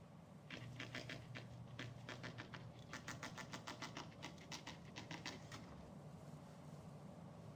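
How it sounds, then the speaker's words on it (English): Printing presses run in The Longest Journey game as a quiet, steady mechanical clatter, repeating stamping patters over a low machine hum. "Presses are rolling."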